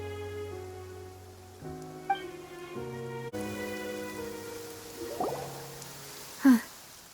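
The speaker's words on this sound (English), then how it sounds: "It's been raining non-stop for a few days now." Steady rainfall in the fantasy video game Genshin Impact patters softly beneath sustained game music, with a few brighter drip or splash accents near the end.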